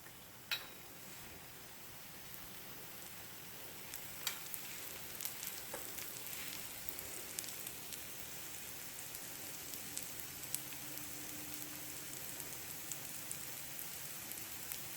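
Sesame oil sizzling in a pan for methi dosa, a faint, steady hiss with scattered small pops throughout.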